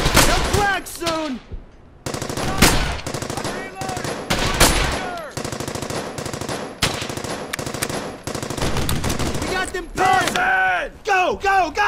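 Rapid machine-gun bursts and rifle shots crack repeatedly in the Brothers In Arms 3: Hell's Highway war video game, loud and close, with shouted voices cutting in between volleys.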